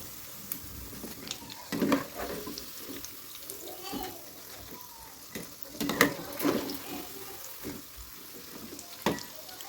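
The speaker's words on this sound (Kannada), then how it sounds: "ಮೀಡಿಯಮ್ ಫ್ಲೇಮ್ ಇಟ್ಕೊಂಡ್ಬಿಟ್ಟೆ ಚೆನ್ನಾಗಿ ಫ್ರೈ ಮಾಡ್ಕೋಬೇಕು" Vada for vada pav fries in oil over a medium flame, giving a soft, steady bubbling sizzle with scattered crackles and pops while a person talks over it.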